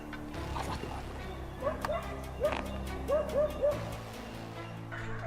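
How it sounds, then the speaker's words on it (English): A hound barks from thick brush at a forest edge during a wild boar hunt, giving several short yelps and whimpering barks in quick bursts over a steady outdoor background. "the bark of a hound rang out, like a death knell echoing through the brush"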